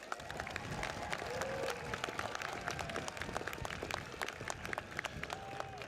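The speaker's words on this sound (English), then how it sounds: "Graduates, let's give all those who supported you another round of applause" Graduation ceremony crowd applauding the graduates' supporters, a scattered, moderately distant patter of many hands clapping at a steady pace, with faint crowd murmur beneath.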